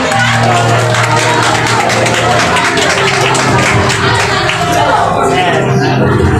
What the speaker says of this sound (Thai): ขอเสียงปรบมือให้กับท่านประธานครับ